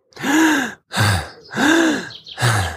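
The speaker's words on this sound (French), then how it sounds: "c'est respirer comme si on avait été sous l'eau pendant 20 ou 30 secondes et qu'on reprend notre respiration" Four deep, forceful breaths are drawn in and let out in turn, like recovery breathing before a breath-hold, each a loud, close gasping inhale or sighing exhale with short pauses between.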